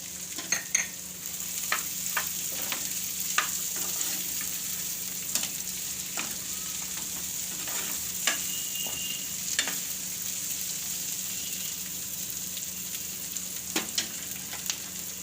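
Chillies and peas fry in a pan for soup pasta, a constant close hiss of oil punctuated by frequent light clicks and scrapes of a stirring spoon.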